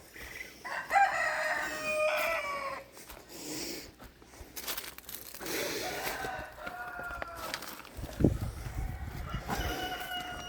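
Several crows from a rooster ring out among clucking chickens on a homestead, fairly close, with a voice briefly calling out between the calls.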